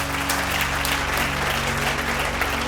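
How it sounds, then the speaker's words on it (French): A fashion show crowd claps steadily and loudly throughout, a dense wash of applause without pause. "On l'applaudit déjà bien fort."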